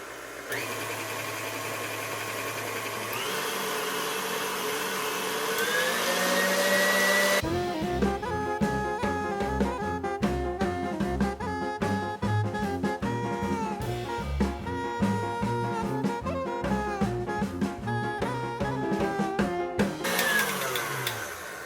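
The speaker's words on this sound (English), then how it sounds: "I'm going to start my mixer out on low and gradually put it up to maximum speed" An electric mixer whipping keto egg white bread batter spins up with a whine that climbs steadily in pitch over several seconds, then is largely buried under loud background music.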